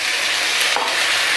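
Local chicken frying with homemade garam masala and a splash of water is stirred in a pan, giving a steady, close, bright sizzle with a faint scrape of the spoon.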